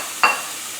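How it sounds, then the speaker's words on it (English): A brief sizzle as shrimp hit a hot pan with butter and olive oil, one quick bright hiss over a faint steady background hum. "We're going to put in the shrimps."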